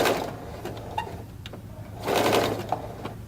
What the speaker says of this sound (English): we're going to stop when we get there, back stitch a couple stitches